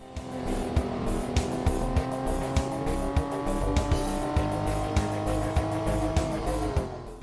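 Car driving in the intro of the Half-Life mod Wilson Chronicles, a steady engine drone with rising and shifting tones and regular soft thumps, moderately loud and continuous with no talk.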